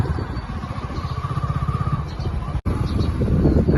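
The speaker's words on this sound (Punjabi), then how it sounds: "ਤੇ ਮੋਟਰਸਾਈਕਲ ਮੈਂ ਚਲਾ ਰਿਹਾ" A motorcycle ridden through a village, its engine putting out a steady, rapid chugging drone close by, with a brief dropout near the end before the motor noise picks back up.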